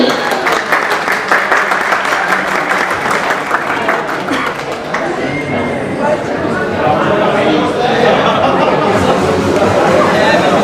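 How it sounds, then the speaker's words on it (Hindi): Audience applause at the Realme 14T phone launch event, dense sustained clapping from a large crowd with cheers and chatter mixed in, steady and loud throughout. "A big round of applause, guys, for top 10 and Realme."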